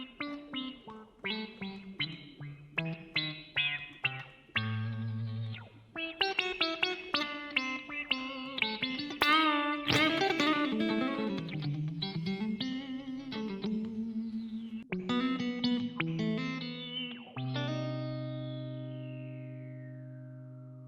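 Electric guitar run through a Wampler Terraform envelope filter pedal at a low attack setting: plucked notes and chords each swell with a vocal, wah-like sweep, playing melodically at moderate volume and ending on a long, ringing chord that fades out.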